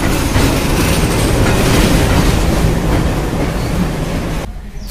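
A WDM3D diesel locomotive hauling a train into a station, loud and close, with a continuous rumble and rhythmic wheel clatter over the rails that cuts off abruptly near the end.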